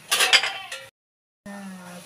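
A lid clinks down onto a cooking pot in a short burst of metallic clatter up close, followed by a pause of silence and then a steady low hum.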